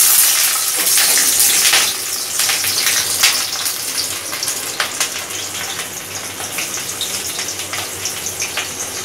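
Vegetables hit well-heated oil in a wok for chowmein, giving a loud, continuous sizzle and crackle that stays dense throughout with small popping bursts, close up and with no talking.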